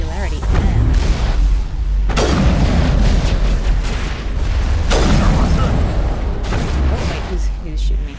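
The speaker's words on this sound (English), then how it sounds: "Oh wait, who's shooting me?" Loud, continuous gunfire and booming blasts fill the Mass Effect combat on the icy Noveria level, with heavy bursts and impacts piling over one another and a voice talking in the mix.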